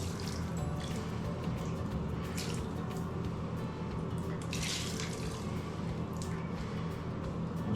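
Water squeezed from a sponge into a bathroom wall texture mix: soft trickling and dripping under a steady background hiss, quiet and continuous with no talk.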